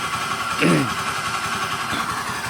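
With the CVT cover removed, a Honda Beat or Vario scooter engine runs at a steady idle, a continuous mid-pitched hum and drone heard close, with a faint whine from a suspected bearing fault and someone briefly talking over it.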